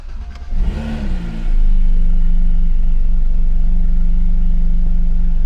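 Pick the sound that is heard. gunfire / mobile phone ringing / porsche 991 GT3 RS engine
porsche 991 GT3 RS engine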